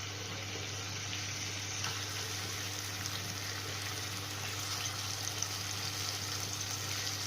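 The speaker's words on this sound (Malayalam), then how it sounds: "അതിലേക്ക് ഞാൻ ഇനി കുറച്ച് അരപ്പ് കോരി ഒഴിക്കാൻ പോകുക." Ground paste spooned into a hot pan with coconut oil for Kerala-style pothichoru sizzles in a steady, even hiss, fairly quiet and unbroken, with no talk over it.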